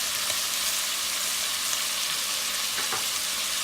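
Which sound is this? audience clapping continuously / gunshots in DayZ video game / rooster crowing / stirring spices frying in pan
stirring spices frying in pan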